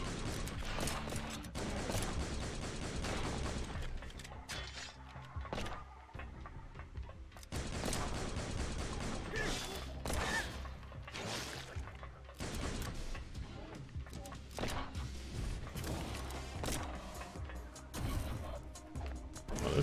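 Gunfire in the video game Dimension Drifter, rapid bursts of shots and clattering impacts repeating through a dense, busy stretch of game noise with no clear talk.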